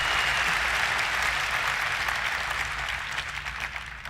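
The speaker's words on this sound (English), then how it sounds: "people are applauding a square inch" A large keynote audience at the NVIDIA GTC 2024 conference breaks into sustained, dense applause, loud and even for several seconds before beginning to thin out near the end, with no speech over it.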